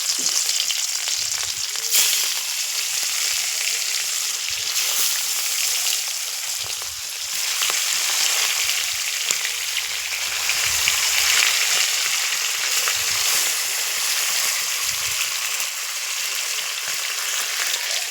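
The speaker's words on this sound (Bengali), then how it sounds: "তারপর কড়াই তেল গরম হয়ে গেছে, আমি একে একে মাছগুলো ছেড়ে দেবো।" Fish fry in hot oil in a wok with a steady, close, loud sizzle and crackle that continues throughout, with no talking.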